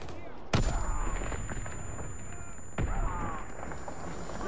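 A frag grenade going off in Call of Duty WWII, two loud sharp blasts about two seconds apart, each trailing into a rumbling decay over steady battle noise.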